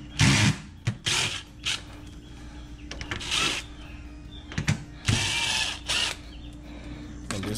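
A ratchet wrench with a 5/16 socket works on a GE Profile refrigerator, with repeated bursts of rapid clicking separated by short pauses, close up over a low background hum.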